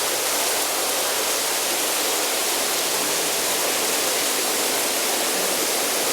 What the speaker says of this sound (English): We're going to turn this on so you can see the water wall.